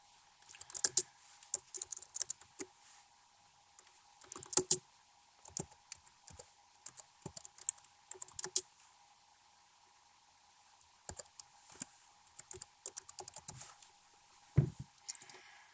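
Clicks and clacks of a computer keyboard as a video title is typed, coming in quick irregular bursts separated by short pauses, with a faint steady hum underneath and no talking.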